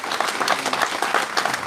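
Crowd applause at the opening of a Playmobil exhibition in a sports hall, brisk dense clapping from many hands filling the room, loud and continuous.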